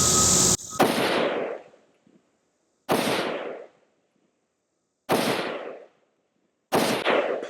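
IWI Tavor X95 rifle shots fired at 200 yards, four sharp loud reports spaced about two seconds apart, each with a short decaying echo and silence between.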